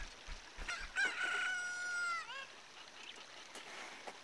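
A rooster crows at daybreak in the video game The Legend of Zelda: Ocarina of Time, one clear drawn-out cock-a-doodle-doo standing alone at moderate volume, followed by faint ambient game sounds.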